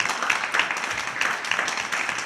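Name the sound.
audience applause at a concert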